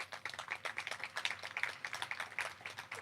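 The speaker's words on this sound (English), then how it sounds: "please give her a huge round of applause" Crowd applause at an LA County board meeting, a steady patter of many hands clapping, faint and distant, with no voices over it.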